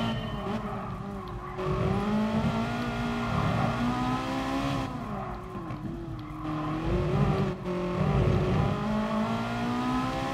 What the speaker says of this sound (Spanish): Y es que suena a Ferrari.